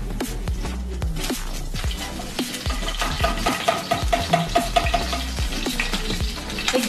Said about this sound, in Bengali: দেখো তেল ঘিটার মধ্যে আমি প্রথমে কাজু আর কিশমিশ গুলো একটু ভেজে নিই।